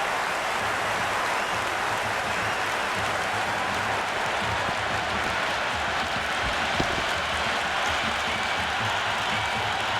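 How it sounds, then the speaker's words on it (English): A stadium crowd in the Cricket 26 game, during an India versus USA T20 World Cup match, cheers and claps in a dense, continuous roar that holds steady throughout. "It's almost palpable, the excitement emanating from this crowd at the moment."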